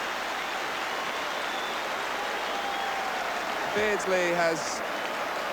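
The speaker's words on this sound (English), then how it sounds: "his ears ringing to the applause from the Kop" The Kop crowd at Anfield applauds during Liverpool against Tottenham Hotspur, a broad, steady roar of clapping that fills the background while a commentator talks over it.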